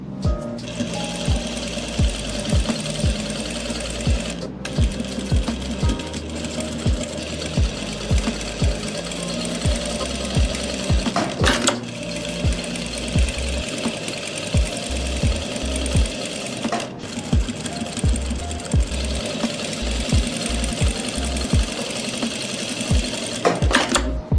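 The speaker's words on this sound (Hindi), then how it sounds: "लेकिन हम यहाँ पे ऐसे सिलाई लगाएंगे" Sewing machine stitching fabric for a palazzo bottom, a steady rapid mechanical whirr with rhythmic needle thumps running almost continuously, near and loud, with a couple of brief pauses.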